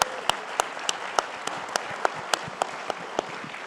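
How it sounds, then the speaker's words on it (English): Applause at a tribal nations summit at the White House, honouring a woman's accomplishment; sparse, evenly spaced claps ring out over a faint background hum, like a small group clapping slowly. "I think we all should give her an incredible round of applause for that accomplishment"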